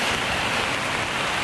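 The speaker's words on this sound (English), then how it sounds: "and it's still raining." Rain falling on a New York City street, a steady broadband hiss that stays constant and fairly loud throughout, with no voices.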